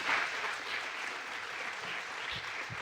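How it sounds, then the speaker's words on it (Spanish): A church congregation applauds after the preacher's call, a soft, distant wash of clapping that stays steady and faint for a few seconds. "Denle un aplauso fuerte a Jesús."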